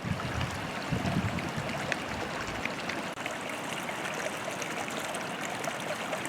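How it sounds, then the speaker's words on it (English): A small waterfall spills below a dam where water pools, giving a constant rushing, splashing flow from close by that holds steady throughout. "it's pooling up behind the dam, and then I got my own little waterfall right here"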